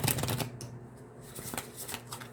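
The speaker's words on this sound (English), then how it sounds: "Spirit is telling me to shuffle the cards again this way." Tarot cards being shuffled, a dense run of papery riffling and flicking close up, continuous with short bursts and no talking.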